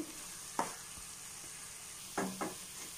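A thickening mixture stirred in a pan on the stove: a few short scraping strokes of a spoon against the pan, spaced irregularly over a faint background hiss.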